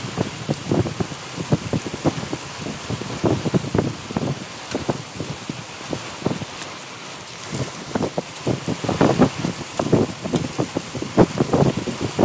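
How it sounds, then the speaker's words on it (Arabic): Hail falls in Umluj, a dense, irregular pattering of hard strikes on surfaces with some wind noise, close and fairly loud throughout. "برد برد برد."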